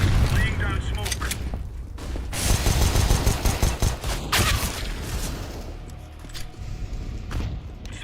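Video game gunfire in rapid bursts, dense cracking shots and booming thuds layered over one another, loud and close, with a voice talking in between.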